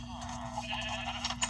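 Sheep bleating in the Minecraft video game, soft short calls over a steady background hum, faint and fairly distant.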